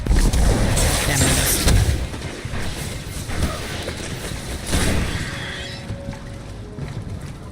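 Rocket launcher fire and explosions in Destiny 1: a heavy rumbling blast at the start, then a fading roar and a second deep boom partway through, all loud and close.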